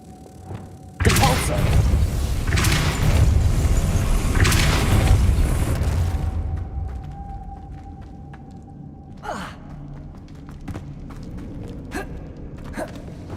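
Depulso force spell cast in Hogwarts Legacy, a loud booming blast with a thudding, rumbling body that lasts several seconds and then fades, followed by fainter thumps and quiet game ambience.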